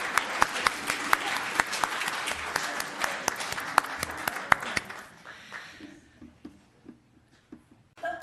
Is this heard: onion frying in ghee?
no